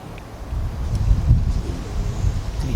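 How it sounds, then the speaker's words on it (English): Wind blowing outdoors beside a 2002 Jeep Grand Cherokee under repair, a steady low roaring buffet on the microphone that swells and eases in gusts, close and fairly loud. "The wind is blowing."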